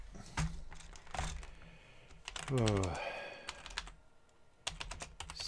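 Rapid bursts of typing on a computer keyboard, clustered clicks with pauses between, close to the mic, during a home livestream; a brief spoken exclamation and a short rising whistle-like tone break in midway.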